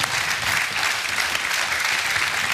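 A studio audience at a German TV quiz show applauds, a thick, continuous roar of many hands that stays loud and even throughout.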